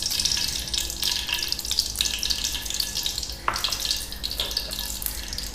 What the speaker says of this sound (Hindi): ये सबसे पहले इसमें ऑयल डालेंगे